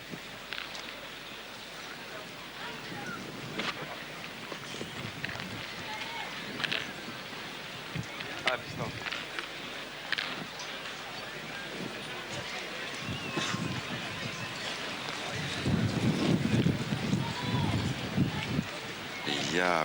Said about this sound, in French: Il y a beaucoup de vent. Vous l'entendez, vous le voyez.